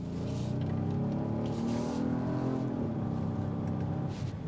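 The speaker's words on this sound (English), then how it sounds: "A throaty V6 engine" Genesis GV80 V6 engine, a 2025 model, droning with a steady throaty low rumble and harmonic hum throughout, close and continuous, no talking.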